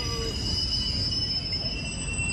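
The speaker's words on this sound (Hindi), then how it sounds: "भिवानी से चल पड़ी है ट्रेन" Train wheels squealing at Bhiwani railway station, a steady high-pitched metallic screech with a constant rail rumble beneath, loud and close throughout.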